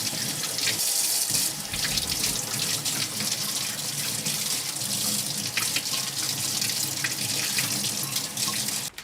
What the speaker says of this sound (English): I'm going to wash this guy first and then chicken.